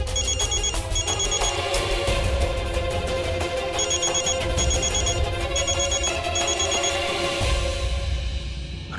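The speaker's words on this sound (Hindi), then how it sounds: "रागिनी बहू का बार बार फोन आ रहा है" A telephone rings insistently in a bright, repeated trilling pattern of bursts, loud and steady over a dense background of music and room sound, with no one speaking.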